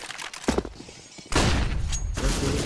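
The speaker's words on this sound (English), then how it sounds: "There's a flashbang past the fallback" A flashbang grenade goes off in a Counter-Strike match, a sudden loud burst after muffled game noise that holds as a dense, sustained wash of noise.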